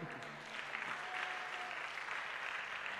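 A church congregation applauding Jesus during a worship service, with steady, moderately distant clapping from a crowd that continues without a break.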